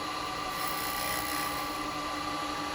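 A wood lathe hums steadily at close range with a continuous high whine as it turns a small chamfer on a Japanese birdhouse; the tone stays even throughout with no pauses.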